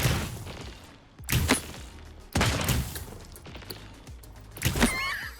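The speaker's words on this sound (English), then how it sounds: "Some mages firing at this person right here, over there." Mages trade weapon fire in the Realm Royale Reforged battle royale game, a few loud, sharp bursts with rumbling booms spaced a second or so apart, plus a faint whistling effect near the end.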